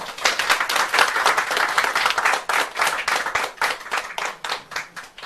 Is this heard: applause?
yes